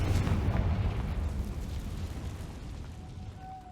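In Hogwarts Legacy, a Confringo blasting spell erupts: a loud, deep explosion that bursts up at once, then rumbles and slowly fades over several seconds, with a faint thin tone ringing at the tail.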